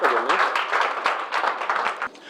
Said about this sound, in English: give Cleve a big round of applause